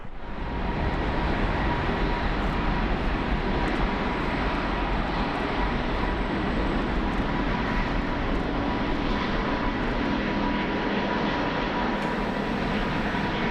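An Emirates airliner takes off from runway 7 right, a steady, loud jet roar that holds unbroken and fairly close throughout, with no voices over it.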